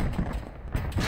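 A 25 mm cannon fires in the Arma 3 video game, loosing a few heavy, booming shots in quick succession. The shots sound muffled and mid-distance, mixed with ongoing battle rumble.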